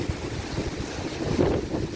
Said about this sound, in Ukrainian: який вітер страшний